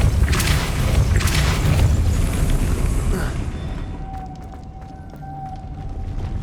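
A Depulso force spell in Hogwarts Legacy lands with booming low-frequency thumps and crackling debris over the first few seconds, then fades to a quieter tail with a thin ringing tone.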